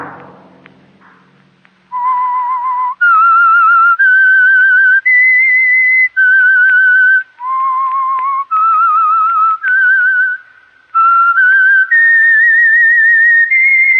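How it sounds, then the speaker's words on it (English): A whistle sounds in a series of sustained held tones, each a second or so long, stepping up and down in pitch with short gaps between them, loud and close after a faint opening. "Let that whistle be your signal."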